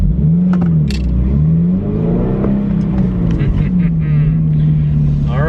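A 2025 Subaru BRZ tS fitted with a Corsa exhaust drives on the road, its engine note rising and falling through revs as it accelerates and shifts, loud and close, with some voice briefly over it.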